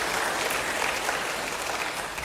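A church congregation applauds together, a dense and steady wash of clapping that fills the room evenly for a couple of seconds, with no break and no voices standing out.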